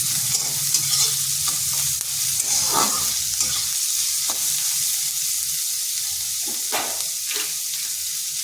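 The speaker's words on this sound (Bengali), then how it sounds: "পেঁয়াজটা হালকা একটু ভেজে নিচ্ছি।" Finely chopped onion fries lightly in a pan, giving a constant soft sizzle broken by scraping stirs and a few sharper pops, close up and with no talking.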